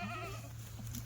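Kathiawari goats bleating as a newly arrived truckload of goats is shown, with a few harmonic bleats early on over a steady low hum and background noise.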